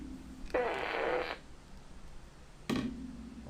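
A fart-gun sound effect during a live Champions League watchalong stream of Man City against Inter Milan. A loud, buzzy raspberry lasts nearly a second, then a second, shorter blast follows after a pause.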